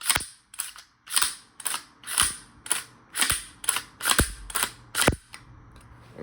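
A Zastava ZPAP M92 rifle's safety and trigger mechanism gives about a dozen sharp, close mechanical clicks and snaps at a steady, slightly uneven pace, with no voices.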